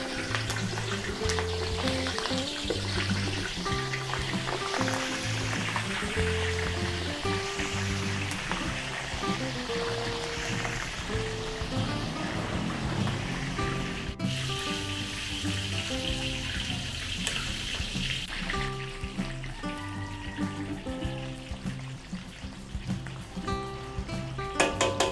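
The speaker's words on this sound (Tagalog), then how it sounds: "Prito po tayo dito ng ating embutido." Steady, loud sizzling of embutido meat rolls frying in hot oil, continuous throughout with faint clinks and background music layered over it.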